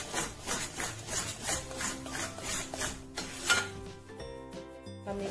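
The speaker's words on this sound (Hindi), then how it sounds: "लगातार चलाते हुए धीमी आंच पे सेकेंगे हम इसे।" Fenugreek laddu mixture with flour being stirred continuously in a pan over low heat, rhythmic scraping and rubbing strokes repeating about twice a second, with occasional clinks of the spoon against the pan and no speech.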